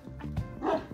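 A Kangal dog barks at a Kangal dog breeding farm, a short close bark or two with a brief yip, heard alone without talk.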